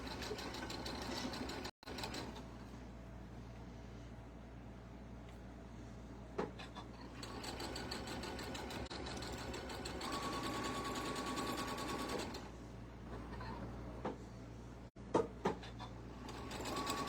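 A sewing machine stitches fabric panels at a quarter-inch seam with a patchwork foot, running in a steady, close, quiet whir with a few brief pauses and clicks.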